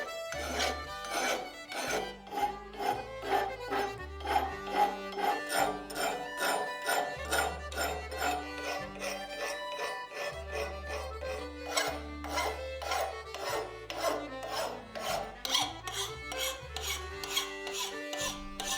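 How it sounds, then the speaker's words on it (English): A hand file rasps along the edge of a forged folded axe in steady back-and-forth strokes, close and fairly quiet, with each pass a gritty scrape repeating in an even working rhythm. "When filing the edge, I like to start out with a steep edge just to line everything up."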